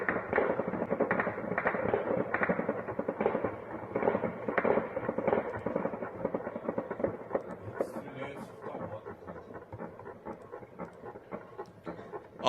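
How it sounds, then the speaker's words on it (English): Sporadic small arms air defense fire at the Ivanovo air base, aimed at incoming drones; dense rapid cracks and pops run continuously at moderate distance and thin out toward the end. "This is the sound of small arms air defense fire coming from Ivanovo"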